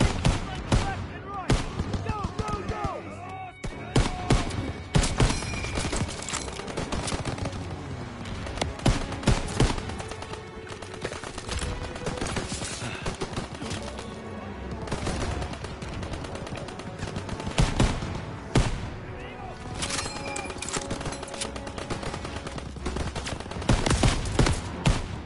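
Dense, continuous gunfire from Call of Duty: World War II, rapid bursts of rifle and machine-gun shots close and loud throughout, with occasional voices under the shooting.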